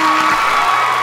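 A live audience of parents, friends and fans cheering young performers at a 12-and-under show: a brief, loud, dense wash of crowd cheers and whoops with no gaps.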